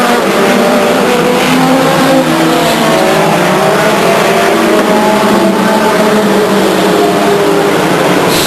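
Race cars at Stockton 99 Speedway roar past in a loud, continuous wall of engine noise, several cars jostling for position with rising and falling revs throughout.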